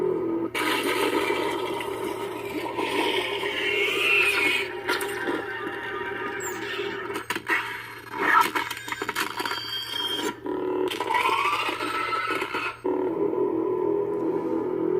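A continuous buzzing, crackling lightsaber lockup effect from a Prizm soundboard with sizzling, sputtering flares, held steadily for several seconds with brief dropouts.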